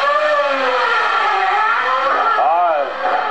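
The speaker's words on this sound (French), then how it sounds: "Le bruit, quel bruit, quel concert de 5 minutes avec la Nova Proto pour la première fois avec cette voiture ici." Nova Proto race car at the Bagnols Sabran hill climb, its engine rising and falling in high revving sweeps through gear changes, heard loud and steady with a commentator talking over it.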